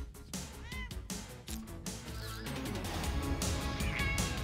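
A cat meows a few times in short calls, heard indoors amid movie-scene sounds and background noise, with brief bursts of voices mixed in.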